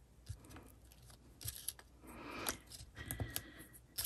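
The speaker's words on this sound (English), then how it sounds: "So I cut a mini dimensional in half right there." Scissors snip a small dimensional foam adhesive in half while making a daisy card, giving a few quick, close, crisp cuts amid light paper handling.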